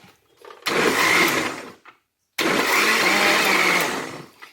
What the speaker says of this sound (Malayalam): വീണ്ടും ഇത് നന്നായിട്ടൊന്ന് അടിച്ചെടുക്കാം.